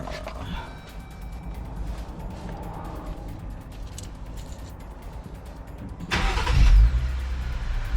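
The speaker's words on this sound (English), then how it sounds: "So now it's time to start the vehicle" A low idle hum and scattered knocks, then near the end a 2021 Jeep JL engine with a cold air intake cranks and roars to life with a loud, rough surge.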